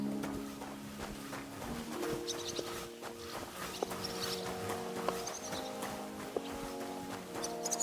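Horse hooves clip-clop at a walking pace in the medieval game Kingdom Come: Deliverance II, with evenly spaced hoofbeats over faint ambient sounds and the occasional bird; no one speaks.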